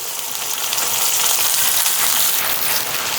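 Shallots, cinnamon bark and cloves frying in plenty of hot oil give off a loud, close, unbroken sizzle, steady throughout with no talk.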